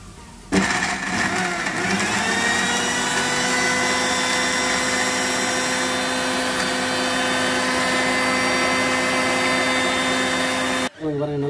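A blender whirs continuously at high speed, grinding ginger, garlic, onion and chili into a paste for sardine sambal, its motor pitch rising and then holding steady until it cuts off near the end.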